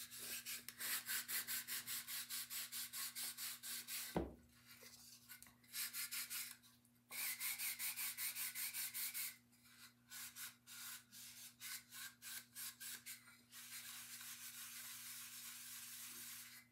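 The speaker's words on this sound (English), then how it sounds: "I also like to put the wax on the frame because I just think it makes it look a little richer." Wax is rubbed onto a wooden frame in quick, regular back-and-forth strokes, soft and close, with short pauses between bursts and a faint steady hum beneath.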